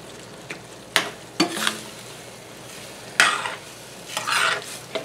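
Ground meat fries in a pan while a utensil stirs and breaks it up, giving a few sharp scraping clatters over a steady close sizzle.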